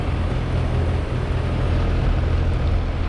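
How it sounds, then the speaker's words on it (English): 2004 Trane XL14i 2-ton central air conditioner with a reciprocating compressor and WeatherGuard top running outdoors, a steady low droning hum with a broad whooshing fan layer, close and constant without talk. "here we have a 2004 Trane XL series air conditioner that I just got starting up"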